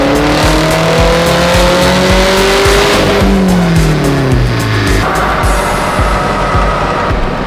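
A tuned car engine revs hard on a dyno, a loud steady roar with pulsing low-end throb, its pitch sweeping up and then dropping back, with no speech.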